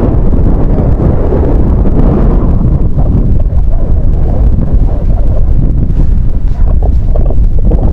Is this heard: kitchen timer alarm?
no